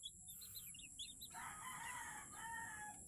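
Chicks peeping in a brooder warmed by a 25-watt lamp, a cluster of faint high chirps over a constant hum and low rumble, fading into a steadier fowl-like call.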